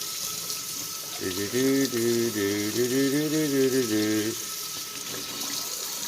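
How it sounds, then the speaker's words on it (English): Tap water runs in a steady gush onto a budget red dot sight during a waterproof test. The flow is strong for about three seconds, then stops, leaving quiet background. "get some good water all over it here"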